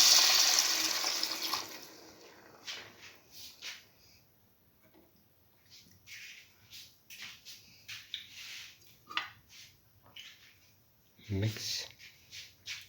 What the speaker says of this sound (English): Now pour in 150 to 200 ml of water.